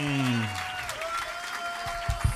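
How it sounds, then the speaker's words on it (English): An audience at a comedy club in London applauds to welcome a comedian onstage, steady clapping running under a speaking voice at the start and a few louder thumps at the end. "let's start the applause over here. Build it up. Build it up. Move it around the room."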